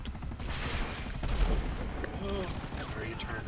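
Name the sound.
gunfire in the video game GTA V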